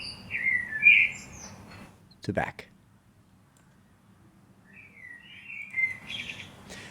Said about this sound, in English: So now my bird is underneath me